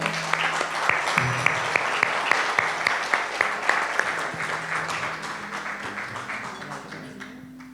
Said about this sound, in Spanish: Daniel y Maribel, un aplauso para ellos